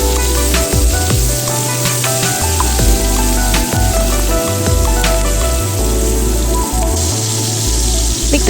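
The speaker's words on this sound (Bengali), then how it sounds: "দেখতে পাচ্ছেন ক্যাপসিকামগুলি আমার ভালোভাবে ভাজা হয়ে গেছে।" Capsicum frying in a pan gives a loud, continuous close sizzle with faint crackles and occasional clinks, steady throughout, with no voices.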